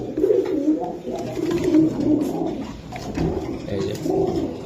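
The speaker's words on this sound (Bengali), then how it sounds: "খুবই সুন্দর কবুতর" Pakistani pigeons cooing close and loud at a bird market, with repeated throaty rolling coos in a steady rhythm and faint background noise.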